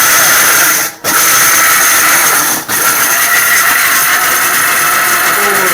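A Varonica blender grinding ingredients in an airtight jar: a loud, steady motor whine running throughout, broken by two brief drops in power, with no talking.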